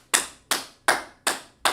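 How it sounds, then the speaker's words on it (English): Five sharp hand claps in a slow, even rhythm, about one every third of a second, close and clear with short decays and no voices. "Clap it up, man"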